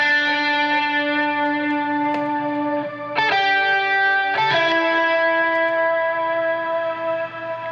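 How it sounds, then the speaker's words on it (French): Electric guitar carrying a film theme through effects, sustained chiming notes with distortion, reverb and echo, a couple of fresh chords struck midway and ringing out, loud and alone. "Et là, il y aura Greg à la guitare."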